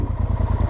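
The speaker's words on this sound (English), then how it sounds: "I can feel the engine as time goes by after a few seconds, warming up and just calming down" A Speedmaster motorcycle engine idles after warming up, with a throaty exhaust giving a steady, fast low-pitched pulse close by; no one speaks.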